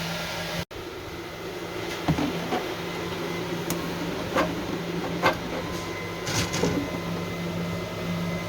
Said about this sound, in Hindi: ये रही मशीन बोतलें डालने वाली। यहाँ पे बोतल डालेंगे